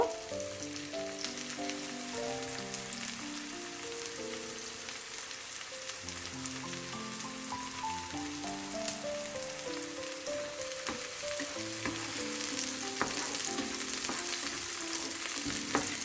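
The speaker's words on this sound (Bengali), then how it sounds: "একটু লাইট কালার করে আমি একটু ভেজে নিব।" Onions fry in a pan for a spinach fry, giving a steady close sizzle with occasional stirring. The frying runs under soft background music, with no talking.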